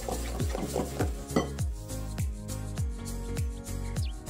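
Pineapple tartlet batter beaten vigorously in a bowl, a steady rhythmic series of knocks and scrapes from the utensil against the bowl's sides, close and continuous.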